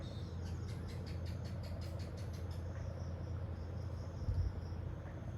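Crickets chirp steadily at night in rapid pulsing trills, forming a continuous insect chorus at a Thailand retreat, with a low background rumble and no talking.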